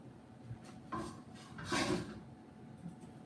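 A skillet handled on a stovetop while cooking dinner gives a few faint, soft clanks and scrapes, with brief metallic knocks rising out of a quiet kitchen background.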